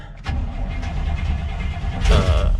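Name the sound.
1983 Toyota 4Runner engine starting after pedal pumps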